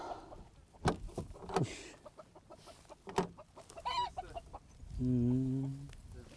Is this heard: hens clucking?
yes